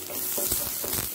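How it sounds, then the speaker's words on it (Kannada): Roughly chopped onion fries in a pan for a Mangalore-style kingfish curry, giving a steady, fairly loud sizzle with a few stronger bursts of crackle. "ಇನ್ನು ಇದನ್ನು ಸ್ವಲ್ಪ ಫ್ರೈ ಮಾಡ್ಕೊಳ್ಳೋಣ"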